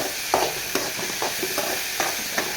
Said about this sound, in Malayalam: അരിഞ്ഞ് വച്ചിരിക്കുന്ന കൂണിട്ട് കൊടുക്കാം നല്ല നല്ലപോലെ ഇളക്കി കൊടുക്കാം